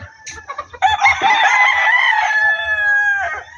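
A gamecock crows loudly and close by in one long, drawn-out call, preceded by a few short clucks.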